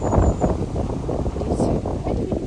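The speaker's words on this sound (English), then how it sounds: "It is quite windy." Wind gusts buffet the microphone beside canal locks at Lawton, a loud, rough, continuous roar with a faint voice underneath.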